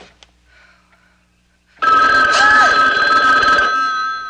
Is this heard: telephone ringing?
yes